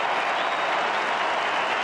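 A Fremantle football crowd at an AFL match cheers and applauds in a dense, steady roar that holds evenly throughout, with no break.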